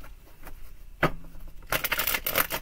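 Tarot cards shuffled by hand, a soft papery tap and a couple of quiet riffles, then a louder, dense burst of rapid card flutter toward the end.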